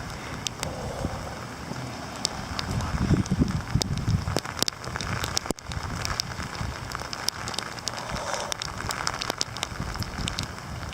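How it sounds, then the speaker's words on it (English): Heavy rain falls during an April cold-front storm, a dense, steady hiss with gusty wind buffeting the microphone and scattered sharp drop hits, no voices. "Now it's just rain."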